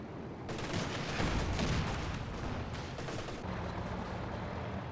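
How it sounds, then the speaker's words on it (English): Dense battle noise from Company of Heroes 2, with an anti-tank gun firing on a Panzer IV. Booming shots and rattling gunfire blend into a continuous, heavy roar throughout. "that AT gun's doing some good work"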